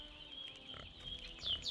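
A pig in a video game grunts and oinks faintly in the distance, several soft low snorts spread over a quiet stretch.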